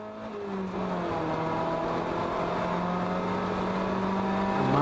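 On-board engine of a Mazda Miata race car in a ChampCar endurance race at Sonoma, droning loud and steady with a rising pitch as it accelerates, close and continuous with no talk.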